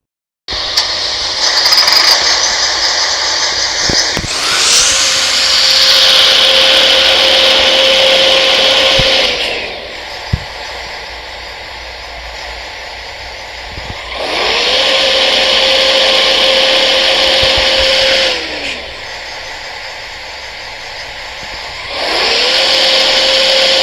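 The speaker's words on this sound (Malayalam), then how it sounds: "നമ്മുടെ CNG വണ്ടി ഏതായാലും സ്റ്റാർട്ട് ചെയ്യുമ്പോഴുള്ള സൗണ്ടും കൊള്ളാം" A Leyland BS6 CNG bus engine in a video game cranks and starts three times. Each start is a loud surge that settles into a steady hum and then cuts off abruptly, with quieter gaps between the runs.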